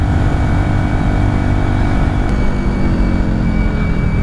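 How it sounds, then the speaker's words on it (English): A Benelli TNT 125 motorbike with a strange whistling fault, running loud and steady with a continuous engine drone and a faint high whine held over it throughout, recorded close up. "I now have a whistling noise to my bike"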